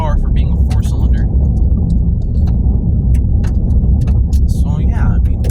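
A base-model 2021 Chevy Silverado 1500 with the 2.7 L inline-4 engine drives along, its steady low engine and road rumble filling the cabin while a person talks over it.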